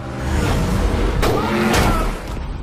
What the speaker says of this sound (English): Or run over by the Batmobile.